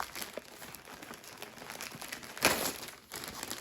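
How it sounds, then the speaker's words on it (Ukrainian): Close, quiet crinkling of a plastic yarn package being torn open, with small rustles and one sharper tearing burst midway. "вже розідрала цей пакет повністю"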